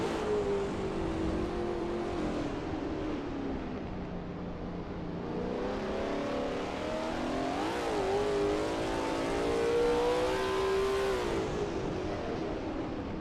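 A Lola T70 MkII Spyder racing at Riverside in a racing video game, its engine roaring steadily with rising and falling revs through the corners, loud and continuous with no voices.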